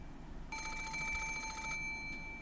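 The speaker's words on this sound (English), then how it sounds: "At that time, suddenly the piercing sound of a phone rang through the room." An antique extension telephone in a grandfather's study, in the video game Umineko, gives one loud, bright electronic ring lasting just over a second, followed by a faint short echo against a low background hum.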